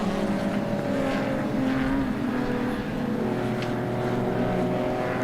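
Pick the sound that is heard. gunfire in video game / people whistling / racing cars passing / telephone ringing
racing cars passing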